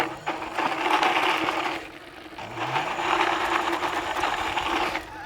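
An AWD dual-motor DIY electric bike tears through loose dirt in woodland, its motor whining loudly in two long surges over crunching, scattering grit, with a brief dip in between.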